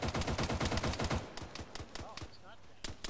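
Close, rapid bursts of automatic gunfire from a firefight in the military shooter ARMA 3, a dense volley for about a second followed by scattered single shots and distant cracks.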